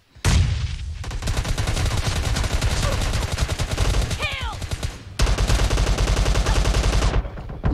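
Rapid automatic gunfire from a video game rattles loudly and almost continuously, with a brief gap near the middle before another sustained burst resumes.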